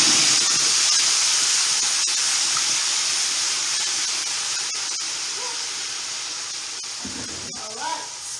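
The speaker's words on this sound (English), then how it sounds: "So now we're going to fry the sauce." Red stew sauce frying in hot oil gives a loud, continuous steam-like hiss that eases slightly over time, with a brief clatter near the end.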